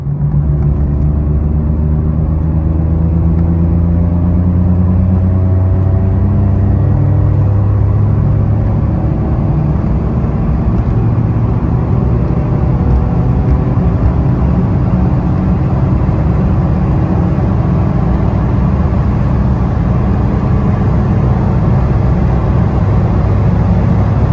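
Steady engine rumble and road noise from inside a car fitted with NASCAR race spark plugs, driving downhill around a bend, continuous and fairly loud with no talk.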